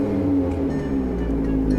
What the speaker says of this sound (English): That revved really quickly.